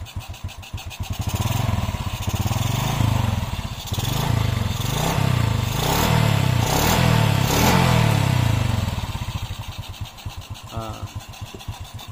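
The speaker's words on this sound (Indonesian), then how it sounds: "Nah, ini motornya hidup ya teman-teman." A Honda Revo motorcycle engine converted from fuel injection to a carburetor with a Shogun CDI fitted runs close by, revving in repeated pulsing surges before settling toward idle, with a voice talking over it.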